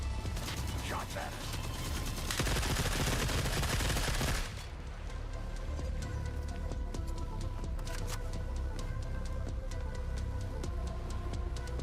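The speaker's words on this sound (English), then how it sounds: "Shots at us." Gunfire from The Forever Winter: a dense, loud burst of rapid shots for the first few seconds, then scattered sharp individual gunshots and bursts continue under background game noise, with a voice talking.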